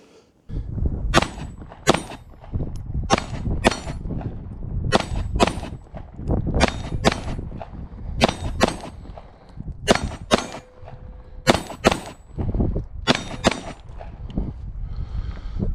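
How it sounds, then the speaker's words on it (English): A Rost Martin RM1C pistol fires Armscor 115 grain FMJ rounds at steel targets, giving a long string of sharp, loud shots spaced about half a second to a second apart, each followed by a ringing metallic clang, with no talking. "Let's shoot some steel again."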